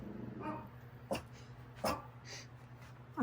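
Dogs indoors at night give a few short, sharp barks and whining whimpers, spaced apart over a steady low household hum, with no talking.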